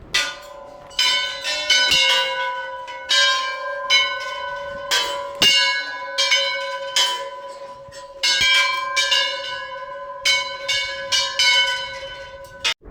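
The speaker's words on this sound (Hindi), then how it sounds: "यकीनन इन घंटियों की आवाज़ से आपके मन को बहुत शांति मिली हुई होगी।" Bells at a Golu Devta temple ring repeatedly in irregular clusters, bright metallic strikes with long ringing tones that overlap and fade, fairly close and loud, with no talking.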